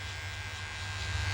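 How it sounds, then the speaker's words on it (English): A tiny electric clipper buzzes close and low as it trims a Chihuahua, a steady hum that runs alone for just over a second. "It's a tiny clipper. I would prefer going in with a tinier clipper"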